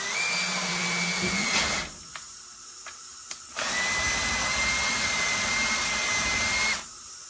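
A power drill whines at high speed in two long bursts with a brief pause between, the long wire brush adding a harsh scraping rasp while cleaning an Ariens Deluxe 30 snowblower.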